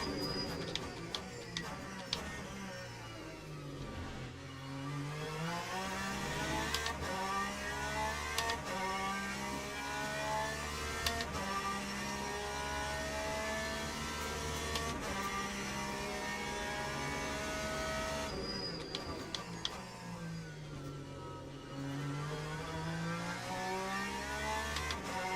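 A Porsche race car engine in a sim racing game daily race at Sebring drones steadily throughout, with shifting revs rising and falling and occasional ticking clicks, no speech over it.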